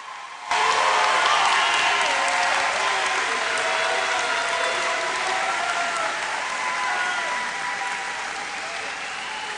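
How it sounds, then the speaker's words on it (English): Applause breaks out after a brief quiet start at a New Tech @ Coppell high school graduation ceremony, a loud, sustained crowd clapping that stays dense and gradually eases in intensity, with no speech over it. "One more round of applause, please."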